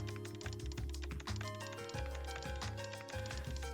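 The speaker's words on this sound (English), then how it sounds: "that's like the most mechanical keyboard sound ever" Mechanical keyboard typing in the video game Trails to Azure, a rapid stream of clacky key presses over steady game music with a repeating bass pattern.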